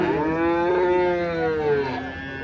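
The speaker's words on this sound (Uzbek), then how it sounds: "mana buzoqlar endi kelyapti mana" A calf at a livestock market gives one long, drawn-out moo that rises and then fades, close and clear against a low murmur of the crowd.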